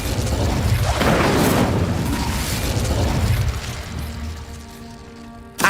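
A roaring whoosh of flame from the Incendio fire spell in Hogwarts Legacy fills the scene, loud and sustained with crackling bursts, fading out before a sharp pop at the very end.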